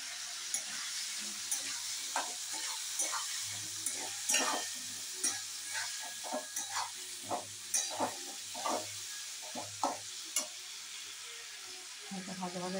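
Spices fry with salt and turmeric in a pan, giving a soft, steady sizzle with regular light scraping taps from stirring, quiet and fairly distant.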